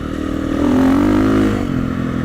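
A motorcycle, apparently a KTM- or Husqvarna-style bike, rides past with its engine rising in pitch as it accelerates, then easing off; loud and fairly close, with no talking.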